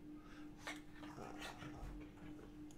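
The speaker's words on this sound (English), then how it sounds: "Excuse the dogs fighting in the background." Dogs fighting and barking in the background of a home, with short yips and whimpers repeating through the clip alongside a steady electrical hum.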